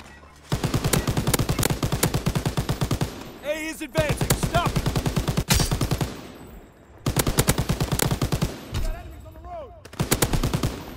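Sustained automatic machine gun fire in a World War II video game battle at a tank-defended front line, long dense rapid bursts broken by brief pauses, with whistling shells and occasional loud reports mixed in.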